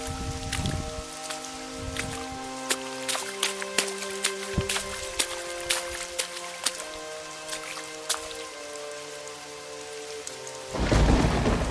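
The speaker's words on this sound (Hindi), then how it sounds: "लेकिन बारिश रुकने का नाम नहीं ले रहा था।" Heavy rain and thunder sound effect: a dense, steady downpour with repeated sharp cracks and rumbles scattered throughout, ending in a louder burst of rain and thunder near the close.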